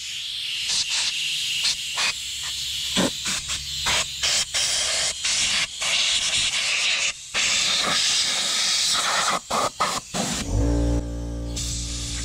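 Compressed air blasting out a Honda lawn mower container, a loud steady hiss broken by short bursts and brief pauses, ending in a lower rumbling blow.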